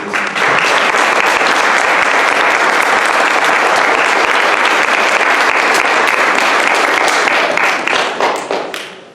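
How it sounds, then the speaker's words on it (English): A forum audience gives candidates a round of applause at a 2015 candidate forum: dense, loud, sustained clapping that holds steady and then tapers off at the end. "please give a round of applause to all of our candidates"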